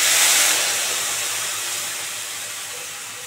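Ground spice paste hits hot oil already holding cumin, bay leaves and a dried red chilli for a vegetarian dish, giving off a loud, broad sizzle that fades gradually as it settles.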